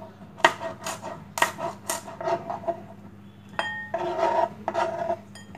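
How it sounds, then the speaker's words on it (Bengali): Green chilies are chopped with a knife on a board, the blade striking in short uneven taps and scraping clinks, close and clear with a low hum underneath and no talk. "আমি 4টা কাঁচামরিচ এখন কুচি কুচি করে কেটে দিব"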